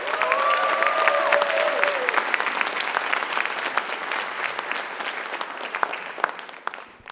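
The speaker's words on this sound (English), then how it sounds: "Y'all can clap for them right now." At a youth awards ceremony, the audience breaks into sustained clapping for the nominees, opening with a couple of whistles and crisp claps that taper gradually over several seconds.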